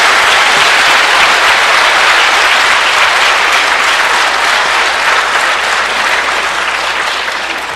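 Sustained applause from a church audience for a bishop after a Lenten lecture, a dense, loud wash of clapping that stays steady throughout and eases slightly toward the end.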